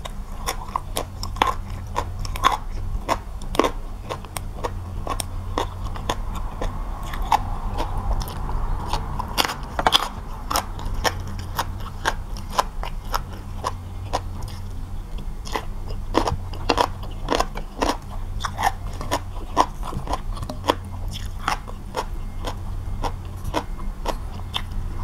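Crispy food being bitten and chewed close up: a long run of sharp crunches and crackly bites, some regular and some in bursts, with no talking.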